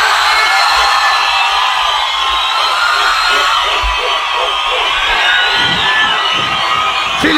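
A packed concert crowd shouts and cheers at a São Paulo baile funk night, a loud, continuous roar of many voices with rhythmic chanting swelling toward the end.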